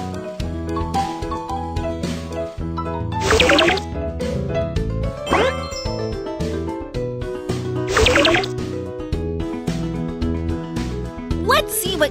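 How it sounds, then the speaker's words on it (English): Bubbly fuel pouring and gurgling into a fireworks machine in a children's video game, in short bursts over cheerful game music, with a few splashy drips standing out. "Pour the fuel into the fireworks machine."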